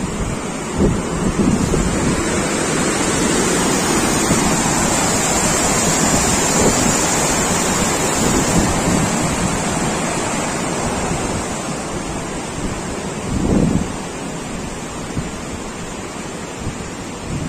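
Water roars through gate number 2 of Karamchat Dam, the Durgawati reservoir in Kaimur, Bihar, after heavy flow from surrounding hills, producing a loud, unbroken rushing wash mixed with gusts of wind buffeting the microphone.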